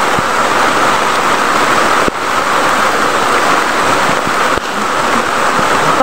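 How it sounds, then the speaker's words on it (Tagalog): Heavy, constant rain pouring down in a dense, even hiss, loud and close, with no voices and only a couple of brief dips. "Hindi pa rin tumitigil ang ulan talaga."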